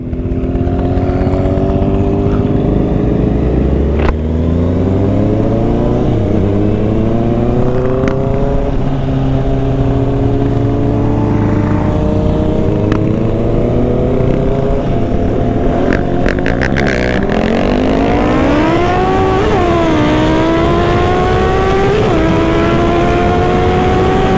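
A Raider 690 motorcycle races a Yamaha YZF-R6, engines revving loudly and continuously with pitch climbing and dropping through the gears, steady high-power roar throughout.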